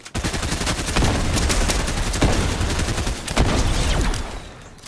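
Rapid gunfire in a battle royale shooter game, a dense, loud stream of shots with a few heavier cracks, continuous for about four seconds before cutting off.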